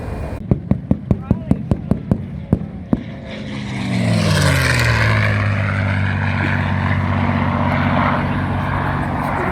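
Propeller engine drone of a CA-18 Mustang fighter flying at an airshow, rising loud and sustained with a sweeping pitch shift as it passes, after a series of sharp rhythmic clicks at the start.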